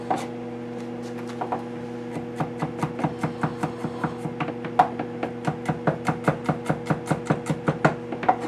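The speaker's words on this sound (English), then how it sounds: "prep the next stage while you're waiting for your wok to heat back up by mincing up some garlic" Knife mincing 4 to 6 garlic cloves on a cutting board, a run of sharp close taps that starts sparse and settles into a fast, steady chopping rhythm over a low background hum.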